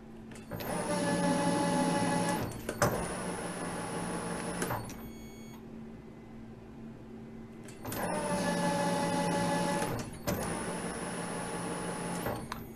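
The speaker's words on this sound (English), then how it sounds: "Now I take a few spring passes to get all the flex out of the part, the spindle," A metal milling machine makes light spring passes on a part, its spindle whining steadily through two long cutting runs separated by a quieter pause, close and alone.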